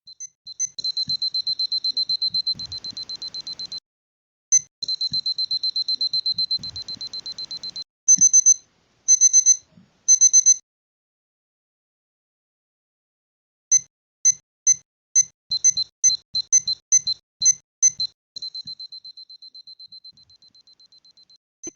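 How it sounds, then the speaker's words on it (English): Level-complete jingle from a web-game port of the Nelsonic Q-Bert watch, played after finishing the pyramid from a disc jump: loud electronic beeps in sustained bursts, then a run of short staccato blips, with faint clicks beneath. "The level complete sound now plays when finishing the pyramid from a disc jump."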